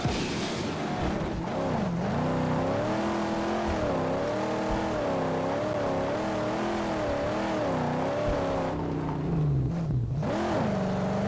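A car engine in a Mad Max video game revs and strains while climbing a hill, its pitch wavering up and down continuously, loud and close, with no talk.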